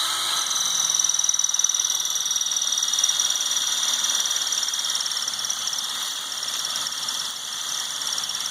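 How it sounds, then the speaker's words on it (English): A power drill bores a hole for a Rasmussen Fox RCS suspension mount, a steady high-pitched whine running continuously at close range with slight wavering in speed, no talking. "I'll temporarily mount this so that I can drill the forward hole."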